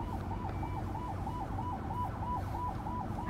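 An emergency siren wails on a city street, its rising and falling tone cycling evenly again and again over a constant low rumble of traffic.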